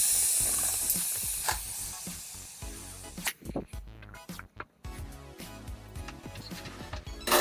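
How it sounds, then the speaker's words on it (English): Air hisses out of a motorcycle inner tube through the open valve after the core is pulled with a valve remover tool, a steady close hiss fading down, followed by scattered clicks and rubber handling noises. "I am using the air valve remover tool to let go of any air that is left in the tube"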